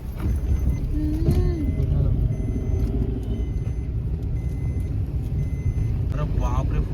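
A car drives along a fog-covered road toward Pali in Raigad, giving a steady, close engine and tyre rumble throughout, with voices heard briefly over it.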